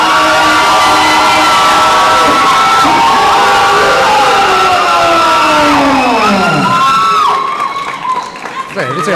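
Crowd at a Texas MMA fight night cheering and shouting loudly throughout, a dense sustained roar with whoops that thins near the end.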